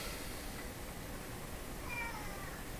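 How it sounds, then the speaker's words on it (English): A house cat meows once, faint and brief, over steady room hiss in a workshop where a vintage Eaton's Electrohome floorstanding tube radio is being checked. "here comes the cat"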